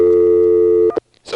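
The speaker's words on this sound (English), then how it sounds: "This time I'm calling a busy signal" A 1A ESS Centrex telephone line gives a steady, loud busy-signal tone for most of a second, then cuts off into brief silence before a burst of line noise.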